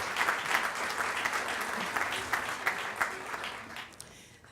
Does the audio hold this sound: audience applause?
yes